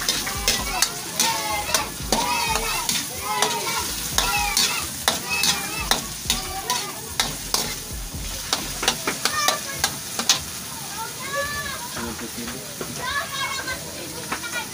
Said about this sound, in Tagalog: Lukayin na ngayon natin para magpantay-pantay yung luto.